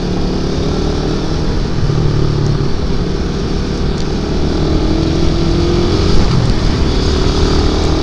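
A Suzuki Satria F150 motorcycle engine runs steadily and loudly throughout, with a rough, rumbling drone and slight swells suggesting light revving.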